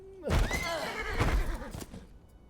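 A horse in the video game Game of Thrones: Kingsroad gives a loud, close whinny that rises and wavers for about two seconds, with faint hoof clatter underneath.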